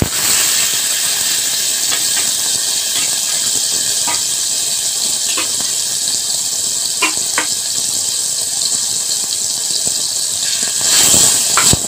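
Ground flat beans hit a hot pan of oil with fried garlic and chili, giving a loud, steady frying hiss broken by a few sharp crackles and pops.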